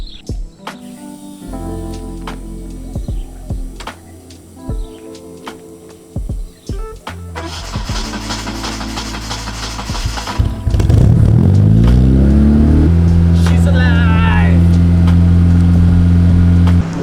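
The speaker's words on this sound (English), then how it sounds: "let's hear the car starts" A 1993 Proton Saga's 4G93 engine, just after a fuel pump repair, turns over and catches, then revs up loudly and settles into a steady, close running drone.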